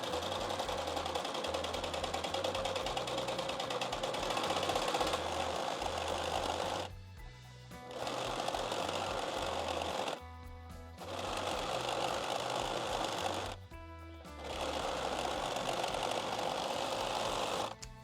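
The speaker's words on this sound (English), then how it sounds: "We're going to go ahead and serge the straps to tie around our waist." A serger overlocks the edges of apron tie straps, running in long, steady, rapid stitching bursts with a low mechanical thrum. It pauses briefly three times between runs, and no one talks.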